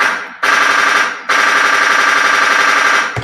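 A loud gunfire sound effect played during a podcast: harsh, rapid-fire bursts in two long stretches with a brief gap between them, close and alone.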